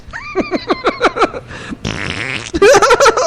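A long, loud fart breaks into a rapid run of sputtering pulses, then turns into a buzzing stretch and a final burst of squeaky pops, with laughter-like sounds near the end.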